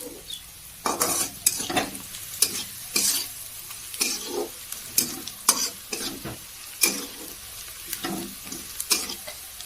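Onion fries in a pan with a steady sizzle, punctuated by repeated loud stirring scrapes roughly every second, close and with no voices.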